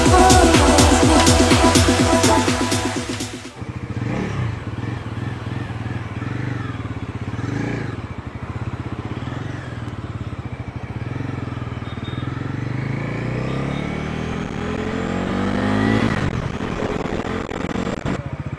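A Bajaj Pulsar NS400 motorcycle riding after a test drive. Music plays loudly at first, then a steady engine drone and wind rush continue close by throughout, with a brief rise in revs near the end.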